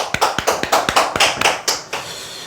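Audience clapping at a sales coaching lecture, a short burst of loud, sharp individual claps in an uneven rhythm that thins out and stops after about two seconds.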